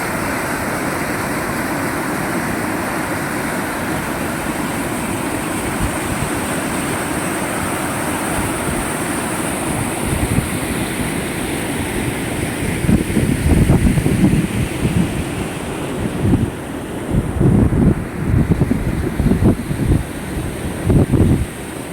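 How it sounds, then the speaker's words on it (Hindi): Loud, continuous rush of water flowing hard through a canal under pressure, a broad roaring wash with bursts of wind buffeting the microphone toward the end. "कितना प्रेशर में आ रहा है पानी।"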